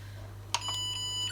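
A Zojirushi rice cooker gives a short electronic beep as cooking is started, followed by a sustained quieter tone and a second brief beep, over a steady low hum in a quiet room.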